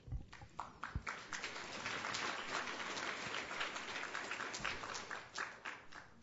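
Sustained applause from a conference audience, steady clapping filling the whole stretch with a few sharper individual claps standing out near the start.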